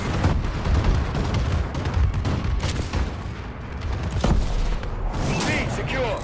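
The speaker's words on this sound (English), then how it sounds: "Friendly bombing run clearing the way." Friendly bombing run explosions in a first-person shooter video game: loud, rumbling booms and rapid blasts rolling continuously, overlapping with voice announcements and game chatter.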